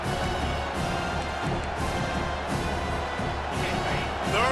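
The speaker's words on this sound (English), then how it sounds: "Third down, and this crowd is tearing the lid off this place." A football stadium crowd roars steadily on third down, a dense, loud wall of cheering noise that holds throughout.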